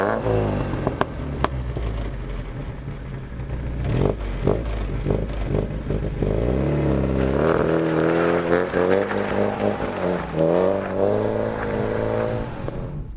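Throaty sports exhaust of a 1977 Alfa Romeo GTV with its 2.0 twin cam engine, a loud, close engine note that revs and rises in pitch through repeated swells over a steady rumble.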